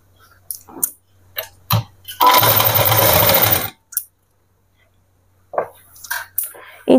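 A sewing machine stitching a salwar seam in one short, loud, close burst of rapid running lasting about a second and a half, set among scattered clicks and handling knocks in otherwise quiet surroundings.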